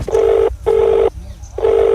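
A phone is dialed, its keypad tones sounding as three loud, clear beeps, each about half a second long with short gaps between, close up and with no talking.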